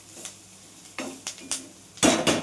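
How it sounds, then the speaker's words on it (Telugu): A metal spoon stirring a turmeric mixture being roasted in a pan: a few sharp scraping clacks against the pan, ending in a louder burst of clattering stirring over a faint sizzle. "మళ్ళీ ఒకసారి అంతా కలబెట్టేసి కొంచెం పసుపు వాసన పోయేదాకా వేయిస్తాం."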